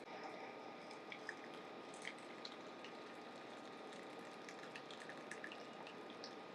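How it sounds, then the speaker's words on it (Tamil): Rose petal decoction in water is poured through a filter, making a faint, steady trickle with small drips and splashes, close by and continuous, with no talking. "இதை வந்து ஃபில்டர் பண்ணி எடுத்துக்கலாம்."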